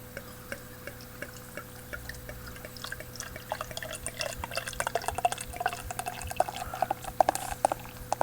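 Beer pouring and fizzing into a glass, with crackling bubbles growing busier toward the end.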